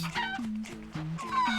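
Cartoonish chickens cluck in Crash Twinsanity, a rapid run of short clucks over a steady game music bed, fairly loud and with no talking.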